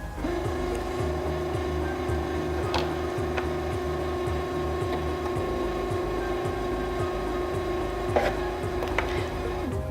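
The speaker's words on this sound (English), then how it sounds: "press the bobbin to the right and step on the foot control to begin winding" A Singer Featherweight C240 sewing machine winds a bobbin with a steady motor whir and fast rhythmic mechanical ticking, close and continuous with no talk.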